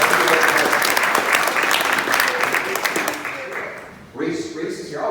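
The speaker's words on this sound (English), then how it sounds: "Give him a round of applause." Loud applause from a crowd at a regional political party policy convention, dense clapping that fades after about four seconds, after which a voice speaks over the last of it.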